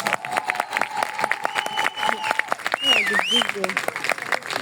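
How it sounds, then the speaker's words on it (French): A live comedy audience at a show in Taghazout, Agadir, applauds and cheers for comedian Ilyes Jadel, with continuous clapping under music and a voice speaking over the crowd. "Faites un maximum de bruit, s'il vous plaît, pour monsieur Ilyes Jadel"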